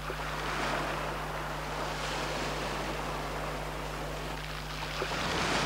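Ocean waves wash steadily along the Seattle waterfront as a continuous, full roar of surf mixed with wind rumble, with no voices.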